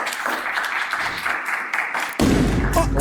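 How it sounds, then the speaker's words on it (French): An audience applauds a participant stepping up in a dating-show format; a steady wash of many hands clapping runs throughout, swelling louder and closer near the end. "Applaudissez-le."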